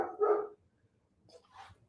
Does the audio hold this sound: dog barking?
yes